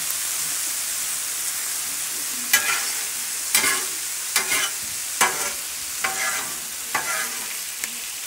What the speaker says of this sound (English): Mix that all together.